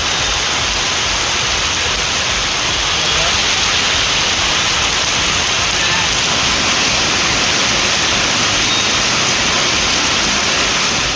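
Heavy rain falls in Manamadurai, Sivaganga district, a dense, steady roar of water that stays loud and even throughout, with no voices.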